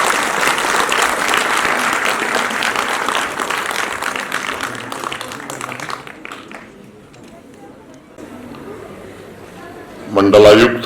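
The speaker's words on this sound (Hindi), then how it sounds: "जोरदार तालियां तो होनी चाहिए सबके लिए।" Crowd at a cultural festival inauguration in Jammu and Kashmir breaks into loud, dense applause that gradually thins and fades, leaving near quiet before a voice returns at the end.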